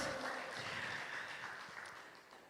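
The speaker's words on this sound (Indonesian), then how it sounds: "Boleh sekali lagi kasih tepuk tangan yang paling dahsyat buat Tuhan Yesus Kristus." A church congregation applauding, a broad steady wash of clapping that fades slightly toward the end, with a few faint voices mixed in.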